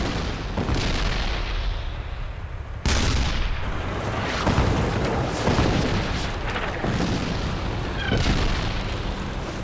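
Tank and artillery fire in a Vietnam War battle, with heavy booms and sharp blasts layered over continuous rumbling combat noise, loud and dense throughout.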